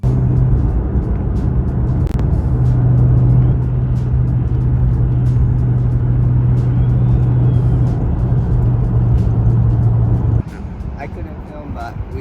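A Toyota JZX100 Chaser on the road to the port, heard as a steady low engine drone and road rumble from inside the car, with the engine note dropping away near the end.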